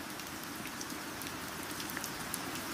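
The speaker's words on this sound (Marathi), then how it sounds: "किती मस्त पाऊस पडतोय." Steady rain falls across a village scene, a dense even hiss of drops on surfaces with scattered individual patters, continuous and fairly close with no voices.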